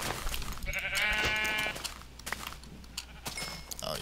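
Sheep in the Minecraft video game bleat once clearly and loudly, followed by scattered clicks and small game noises at moderate volume.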